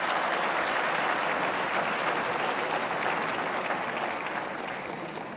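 An audience at a conference keynote applauds, a steady wash of clapping that fills the space evenly and fades slightly toward the end.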